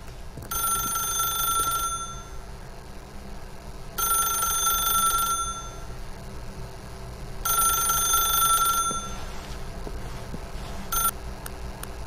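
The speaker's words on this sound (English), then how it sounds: "If you can truly place your faith in another, then pick up the phone." A telephone rings in The Stanley Parable video game, four bright repeated ring bursts at steady intervals over a low background hum, with no talk.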